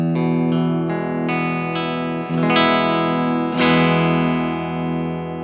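Clean Squier Telecaster electric guitar through a Vox AC10 tube amp, with strummed chords ringing out in a few slow, bright strokes, close and sustained.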